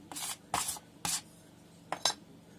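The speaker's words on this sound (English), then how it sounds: "Move the sand out of the way." Casting sand is pushed and scooped aside in a sand-casting mold, making several short, close scraping swishes separated by brief pauses.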